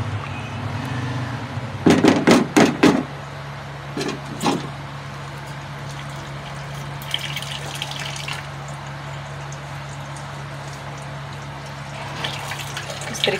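Water is poured into mung masoor dal cooking in a pot, splashing in a few quick bursts early on before the sound settles into quiet kitchen background with faint knocks.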